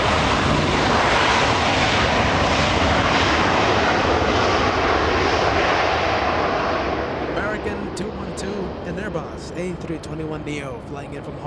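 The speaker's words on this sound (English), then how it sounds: "A321neo flying in from Hawaii, 5-hour flight" An Airbus A321neo airliner arriving at Los Angeles International Airport after a five-hour flight from Hawaii: a loud, close jet roar filling most of the clip, then easing as the sound thins out toward the end.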